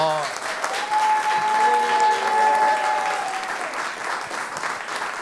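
Studio audience applauds at a TV show, a dense, steady wash of clapping that holds across the whole stretch, with a brief voice and tones at the start.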